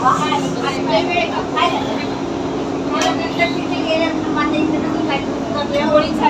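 A Pune metro train rumbles along toward Pune Station with a steady mechanical drone, while people talk close by throughout the ride.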